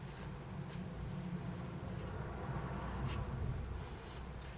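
A pen or pencil sketches a soldier on paper, producing a soft, steady, continuous scratching close by with faint strokes, and no voices.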